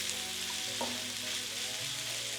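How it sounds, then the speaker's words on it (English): Spicy breakfast sausage frying in a pan, a steady soft sizzle with a faint stir or shift of the meat partway through, close and alone. "we're gonna put our sausage in our pan"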